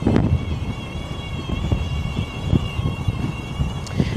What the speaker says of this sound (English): That's one of them 41 mile an hour wind gusts right there. This wind is crazy.